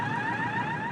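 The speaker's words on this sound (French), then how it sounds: "L'alarme, c'est un exercice d'alerte." A military base alert alarm sounds during a drill at a forward post in Tessalit, Mali: a steady, loud electronic tone with sustained harmonics, held continuously without break for the whole moment.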